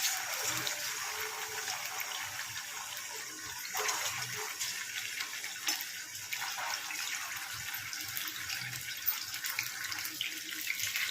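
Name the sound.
marinated chicken pieces frying in hot oil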